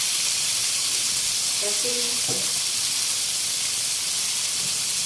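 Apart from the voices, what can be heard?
chicken added to hot pan, sizzling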